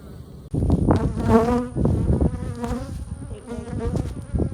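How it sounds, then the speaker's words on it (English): Bees buzz close by, a wavering drone that swells and fades as insects fly past near the microphone. "They're like buzzing around, buzzing my ear as I'm getting this ready."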